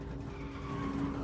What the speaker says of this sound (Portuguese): Patinando!